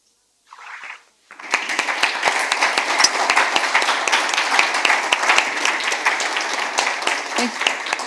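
An audience applauds after a talk, a dense, steady wash of many hands clapping that starts abruptly after a brief murmur and continues evenly to the end.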